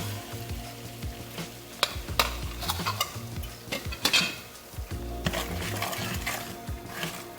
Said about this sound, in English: Already 1 stick of butter is boiling or toasting in here